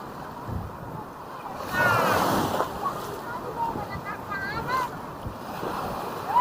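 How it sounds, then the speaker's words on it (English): Ocean surf rolls onto the sand at Paniman Beach, Puerto Azul, a broad washing roar that swells and recedes under gusty wind noise on the microphone, with people's voices and excited exclamations mixed in. "The waves are coming."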